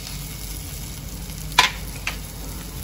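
Dried bombil and chopped onion sizzle steadily in a hot pan, with a soft continuous crackle and a couple of brief stirring clinks partway through.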